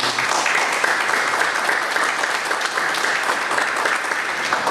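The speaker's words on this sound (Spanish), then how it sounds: "Reiteremos nuestro agradecimiento el día de hoy con otro fuerte aplauso." Audience at a legal lecture on procedural principles applauds steadily, a dense, even wash of many hands clapping that holds throughout at moderate loudness.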